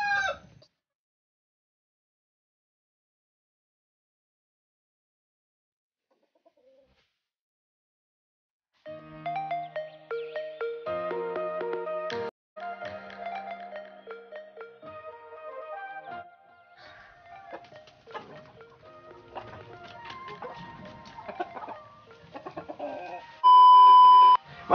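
Silence at first, then a busy mix of Rhode Island Red and native hens clucking and a rooster crowing up close, with a steady electronic tone near the end.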